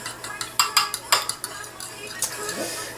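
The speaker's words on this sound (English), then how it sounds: "So we mix that up a little bit." Vanilla and buttermilk being mixed into chocolate cupcake batter, several close clinks and scrapes of a utensil against a bowl in quick succession, then softer stirring.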